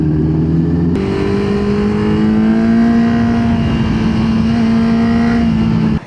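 A car on Gap Road in Munnar drives past close by, its engine note steady and loud for about five seconds, rising slightly as it nears, then cutting off abruptly at the end.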